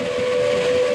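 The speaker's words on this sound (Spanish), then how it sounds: "hizo escuchar su campana y después el pu-pu de su enorme silbato" Steam train whistle sounding as a sustained, steady tonal blast that holds loud and unbroken for about a second over a faint background hiss.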